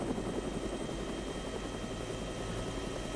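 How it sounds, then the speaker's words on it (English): Helicopter flying in the video game Arma 3 with a Vietnam-era mod, a steady, loud rotor and engine drone holding constant throughout with no break. "That chopper's gonna be a bit loud, so I'll speak a bit louder."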